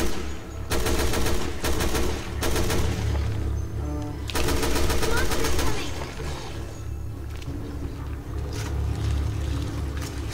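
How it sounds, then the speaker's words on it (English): Sustained gunfire from Resident Evil: Revelations 2, with dense bursts of rapid shots over a low rumbling game soundtrack, loud and continuous, breaking into repeated volleys through the middle and trailing into scattered shots. "Shoot him in the face!"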